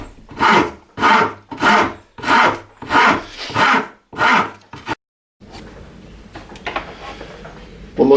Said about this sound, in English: Let's see how this works. Here I am with my file.